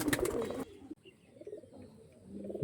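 Tournament-quality racing pigeons cooing softly nearby, low murmuring calls following a short burst of louder flapping or rustling at the start.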